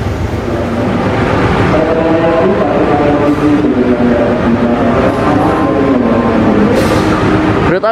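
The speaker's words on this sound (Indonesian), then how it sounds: "Oke, kita tunggu kereta api Singasari masuk jalur 2." An Indonesian Singasari passenger train from Blitar to Jakarta Pasar Senen, hauled by a locomotive, pulls into track 2 at Purwokerto station with a loud, steady rumble of wheels and cars and a brief horn-like tone near the end.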